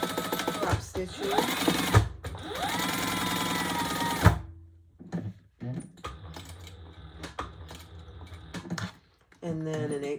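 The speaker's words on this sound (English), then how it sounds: "And now we are going to stitch down how she tells you to in the pattern." A sewing machine topstitches a fabric traveler pouch in bursts of fast rattling hum, with short pauses and clicks between runs and a voice talking at the end.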